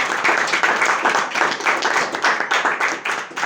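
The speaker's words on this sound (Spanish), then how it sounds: "demos ofrenda de palmas a nuestro Señor" Congregation in a church clapping together in praise, dense rhythmic hand claps repeating steadily throughout, loud and close with no talking.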